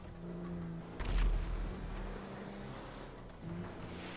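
Rocket fire and explosions in a video game: a heavy, booming blast lands near the start, rumbling over a steady engine-like drone that swells again toward the end.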